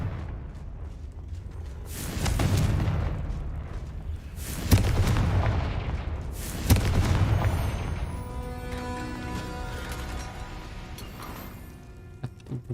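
Fire spells in Hogwarts Legacy set off a series of loud booming explosions, about four big blasts with rumbling decay, followed by crackling debris and tinkling fragments.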